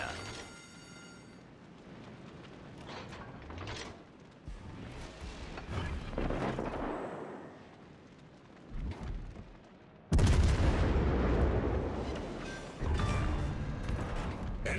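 Naval guns fire in the World of Warships Legends video game: heavy booming blasts roll over a rumbling battle bed, with a sudden loud barrage partway through that sustains and then hits again.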